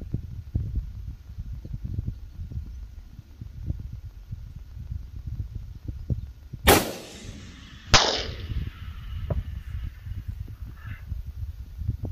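Two sharp cracks from a 7mm SAUM rifle firing 183gr Sierra Match King rounds at a ballistics gel target 1012 yards away, each a loud blast with a ringing tail, set against a low rumbling wind background.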